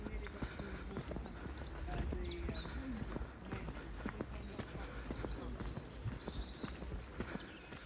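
Birds chirp and sing throughout a park in early March, their calls layered over steady outdoor rumble, passing footsteps and a clip-clop of hooves, with distant voices in the background.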